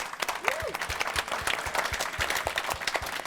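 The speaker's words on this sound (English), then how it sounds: "put their hands together for a big round of applause for our amazing panel" An evening crowd at a crypto debate applauds the panel with a sustained patter of clapping and a voice briefly heard over it.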